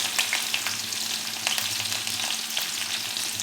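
Green chilies dropped into hot oil for a dry fenugreek-leaf and moong dal stir-fry, a dense, steady sizzle with crackling bursts close up and no talking.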